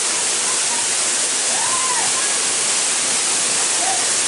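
A waterfall by a river inside a cave roars as a dense, constant broadband rush, loud and close, with no break across the whole stretch.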